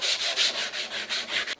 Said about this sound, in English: I don't want to change that by sanding it